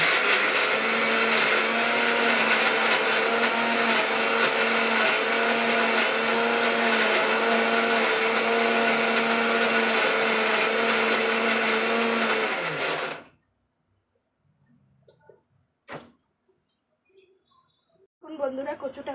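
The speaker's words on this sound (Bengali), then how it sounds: "এই যে মিক্সচারে বসালাম মিক্সচারটা অবশ্য ক্যামেরায় দেখা যাবে না" Mixer grinder whirring loudly and steadily as it grinds taro root, then switching off abruptly, followed by a few faint clinks and knocks in a quiet kitchen.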